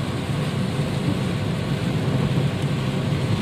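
Steady rain falls on a road in Madina during a storm, a dense continuous hiss and low rumble with no clear separate thunderclap, loud and unbroken throughout.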